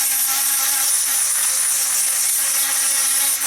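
Power drill enlarging a wiring hole in an X-Wing model build, a continuous loud high whir with steady pitch and grinding texture throughout, no voices.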